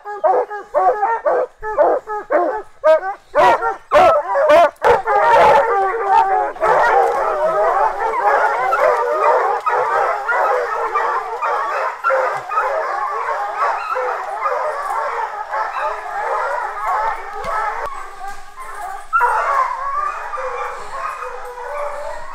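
Hunting hounds bay and yelp continuously at a bear treed in woods, with several dogs barking in overlapping, rhythmic bursts early on before settling into a steady, loud chorus of howling and chopping barks.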